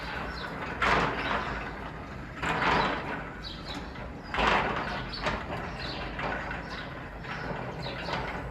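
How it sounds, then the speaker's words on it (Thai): A Sonoff T02C touch-switch-controlled motorized fence gate opens, giving a steady mechanical rumble with several recurring scraping surges, moderately loud and without voices. "เปิดประตูรั้ว"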